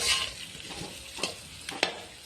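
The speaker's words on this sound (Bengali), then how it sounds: "এবার আমি এটাকে একটু ভালো করে নেড়ে নেব। আলুটাকে ভালো করে মাখাতে হবে।" Mashed potato being worked in a pan with a spatula for bread chop, giving soft scraping stirs with a few brief sharper scrapes against the pan, close and fairly quiet with no talk.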